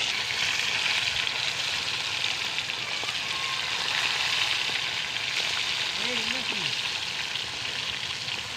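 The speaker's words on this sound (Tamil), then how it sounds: "எண்ணெய் சூடாகிட்டு பாருங்கள் ஃப்ரெண்ட்ஸ், பொரிச்சு எடுத்துக்கலாம்." Fish frying in hot oil, giving a steady, dense sizzle that stays fairly loud throughout, with a brief tonal squeak or voice-like sound near the end.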